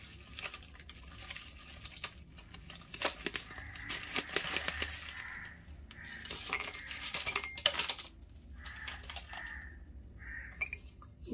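A spoon stirs loose-leaf tea and liquor together in a container, giving a run of soft scraping rubs and sharp metallic clinks that come close and fairly loud, in irregular bursts.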